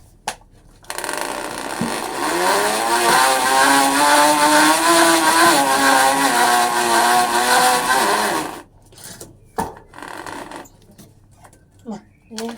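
Bicycle fitted with a plastic-cup 'exhaust' against the spokes, its front tire flat, gives a loud, steady motorbike-like buzz that rises and holds for about eight seconds, then cuts off, leaving scattered knocks and faint voices.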